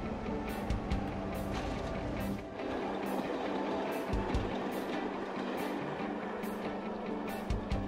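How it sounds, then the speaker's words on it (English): A crash test rake coasts along rails toward a stationary vessel for a collision test, giving a steady, moderately loud rolling rumble with rhythmic clicks that repeat about every half second, with no voices. "The test rake coasts the final 1 kilometre to the stationary vessel for the collision to take place."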